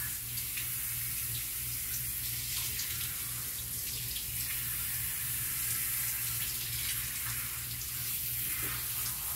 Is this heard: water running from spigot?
yes